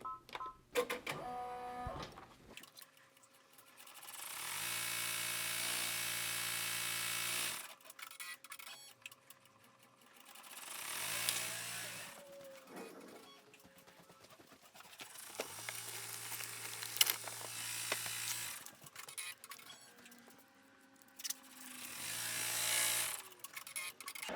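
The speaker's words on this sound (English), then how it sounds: "now I'm going to go ahead and stitch out and tack down my Velcro pieces" An embroidery machine stitches and tacks down Velcro pieces in bursts: rapid buzzing needle runs of several seconds separated by pauses, clicks and short motor whirs, close and moderately loud.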